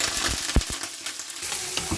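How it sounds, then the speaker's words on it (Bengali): Onions frying in olive oil in a wok, a steady close sizzle with a brief clatter of stirring partway through, no voices. "এখন পেঁয়াজগুলো অলিভ অয়েল দিয়েছি"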